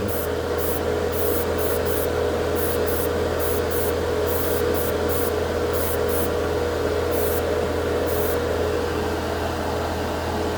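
Airbrush spraying nail polish onto a white plastic spoon for scale model painting, a loud steady hiss of compressed air running continuously for about ten seconds with a constant underlying hum.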